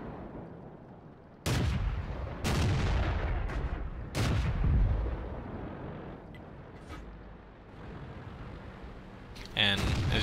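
An SU-85I tank gun in World of Tanks firing shells, several heavy booming blasts, each with a long rumbling tail, and a sharper crack near the end.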